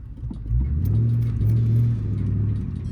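A manual car pulls away uphill, its mid-range engine rumble rising as the revs build in a steady drone that swells after the first half second and holds close and loud before easing slightly.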